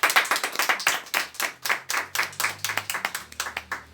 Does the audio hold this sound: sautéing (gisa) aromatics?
no